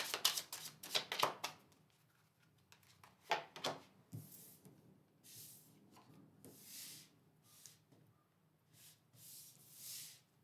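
Tarot cards are riffled and shuffled close up, a few quick rustling bursts followed by softer sliding and tapping sounds.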